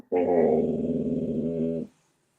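A dog growls in one steady, deep, close rumble lasting under two seconds, then falls silent.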